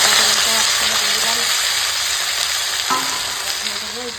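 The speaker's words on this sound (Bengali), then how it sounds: "এখন তেল গরম হয়ে গেছে আলু পেঁয়াজ" Potato and onion crackle loudly in hot oil in a home kitchen, a dense continuous sizzle close to the pan that eases slightly over a few seconds, with a faint voice underneath.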